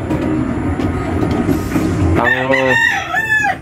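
A rooster crows loudly nearby in one long, wavering cock-a-doodle-doo that follows a stretch of rumbling background noise from the farmyard.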